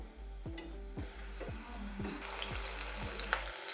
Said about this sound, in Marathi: आता इथे दोन्ही बाजूने चांगले क्रिस्पी तळून घ्यायचं आहे